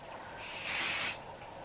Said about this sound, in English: I'm spraying it again with this medium hold hairspray